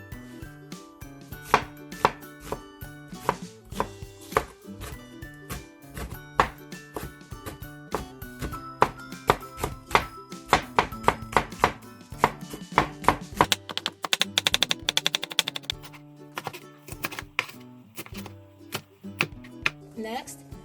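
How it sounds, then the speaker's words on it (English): A kitchen knife chops vegetables for Korean shepherd's purse soybean paste soup on a cutting board, sounding as rapid, uneven runs of crisp close thuds with short pauses between bursts. "Let's cut the vegetables."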